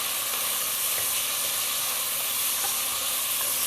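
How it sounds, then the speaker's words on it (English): Greens and beans sizzle steadily in a hot pan over high heat, a dense, continuous frying hiss that stays close and even throughout, with no voices. "It's got a nice sizzle going."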